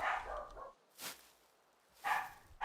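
Puppies in a dog-barking alert go off in short bursts, a cluster of yips and barks followed by a pause and another bark and yap, fairly close.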